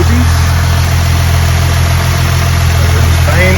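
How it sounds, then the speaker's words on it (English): A Ford Mustang engine runs loud and close in a steady, even drone, with little sign of rising revs and only slight variation in pitch. "Giving it a few revs."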